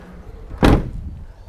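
The rear back door of a 4WD fitted with an awning is shut with a single solid, close thud over faint outdoor background noise.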